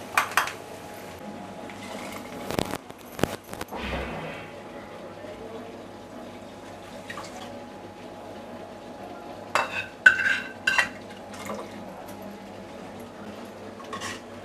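Hot tadka of asafoetida and coriander is mixed into cooked dal: scattered spoon scrapes and clinks in a pot, a few sharper bursts separated by quiet stretches.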